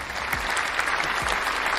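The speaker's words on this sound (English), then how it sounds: "And a round of applause again." A short round of clapping from a small group during a football interview, with dense, even hand claps close by and no talk over them.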